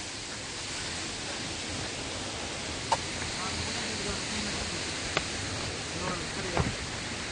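Cheonjeyeon waterfall's third falls on Jeju, a steady broadband roar of rushing water filling the scene, with a few faint clicks and rustles over it and no talk.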